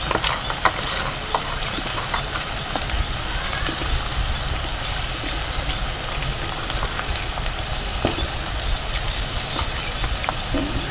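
Cauliflower sautés in a hot pan with onion-garlic spice masala, giving a loud, steady, close sizzling hiss that runs without pause throughout.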